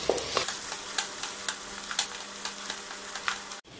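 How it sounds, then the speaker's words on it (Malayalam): Finely chopped garlic sizzles and fries steadily in hot oil for a Kerala-style beef curry, while a spoon stirs the pan in regular, close scraping strokes. The sizzle cuts off abruptly at the end. "ഈ ഒരു പരുവാകുമ്പോൾ നമുക്കിതിലോട്ട് പൊടിയായിട്ട് അരിഞ്ഞു വെച്ചിരിക്കുന്ന വെളുത്തുള്ളി ചേർക്കാം. എന്നിട്ട് ഒന്നതുപോലെ വഴറ്റി കൊടുക്കാം."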